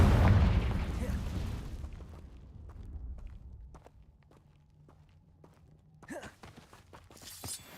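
A Confringo blasting spell goes off in a Harry Potter video game, a loud low explosive boom at the start that rumbles and fades, followed by scattered footsteps and light clatter.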